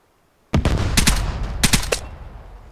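Gunfire in the video game Vigor: a sudden loud burst of rapid automatic shots breaks a near-silence, followed by a second cluster of shots and a fading tail.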